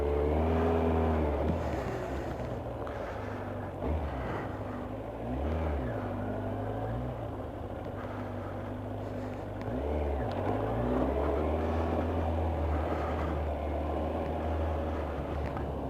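Kawasaki ZZR 1100 (ZX11) motorcycle engine running on a ride, a steady loud drone with harmonic tones that dip and rise again around gear changes, continuous and close throughout.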